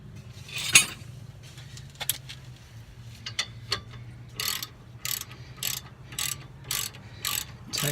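A ratchet tightens the bolt on a solenoid, starting with scattered metallic clicks and knocks, then settling into a regular run of sharp, close ratcheting bursts about every half second.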